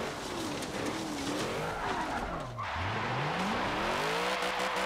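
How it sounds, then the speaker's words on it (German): A car doing a burnout and skidding in Forza Motorsport 7, with a steady loud tire squeal under a revving engine whose pitch dips and climbs again. "Schön Burnout hingezogen."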